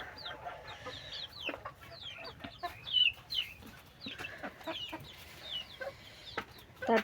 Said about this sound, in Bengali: এই হচ্ছে আমার কোয়েল পাখি।